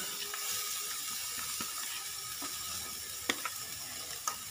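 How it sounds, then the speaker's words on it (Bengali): Grated carrot and beans stirred and frying in a pan for veg lollipop, a steady low sizzle with a few sharp scraping clicks of the spatula near the end, no talking. "এবার এতে দিয়ে দিচ্ছি গ্রেট করে রাখা গাজর, বিনস"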